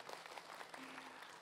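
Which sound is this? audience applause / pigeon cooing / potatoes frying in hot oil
audience applause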